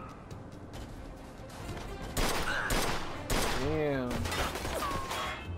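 Gunfire in the video game Mafia 2, a burst of shots with sharp impacts and crashes, moderately loud, with a voice talking and exclaiming over the game sounds.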